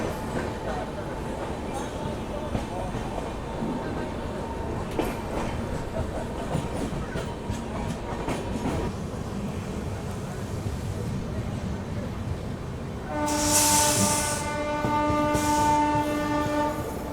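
The Mumbai–Indore Duronto Express passes, hauled by a WDG3 locomotive, with a steady rumble and rail clatter, then a loud, sustained horn blast near the end.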